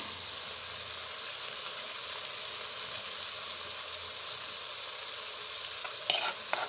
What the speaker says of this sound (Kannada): ಕ್ಯಾಬೇಜ್ ಹೆಚ್ಕೊಂಡಿದ್ದು, ಚಾಪ್ ಮಾಡಿದ್ದು ಕ್ಯಾಬೇಜ್ ಹಾಕ್ತಾಯಿದ್ದೀನಿ.